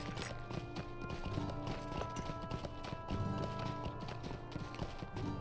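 Horse hooves clip-clop steadily in Lord of the Rings Online while the rider travels the Lone-Lands, a brisk, even rhythm of many hoof beats close up over low ambient game sound.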